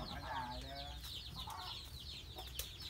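Chickens and young chicks cluck and cheep steadily on a farm, a dense chorus of short calls layered over one another at moderate distance, with no clear talking.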